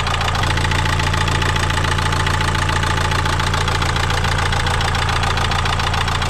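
Diesel engine running roughly with a steady knocking beat after a fuel error, loud and close, alone with no voices.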